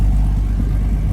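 Engine of a 1959 GMC 100 Stepside pickup running steadily nearby, a continuous low rumble with no talk over it.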